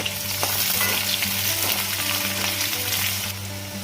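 Potatoes fry in a pan with two green chillies and finely chopped onion for an Assamese home meal, giving a loud, steady, close sizzle broken by light stirring scrapes, with no talk.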